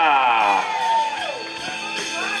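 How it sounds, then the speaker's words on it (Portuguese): An audience cheers, whoops and shouts for a man named Rafael at a lively Father's Day gathering. The crowd noise is loud and steady from start to finish, with a few higher shrill calls rising above it. "Palmas pro Rafael, galera"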